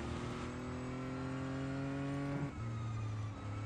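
In the Real Racing 3 video game, an Audi R18 e-tron quattro race car's engine drones steadily with rising pitch, then drops sharply as it shifts gear and climbs again, loud and continuous.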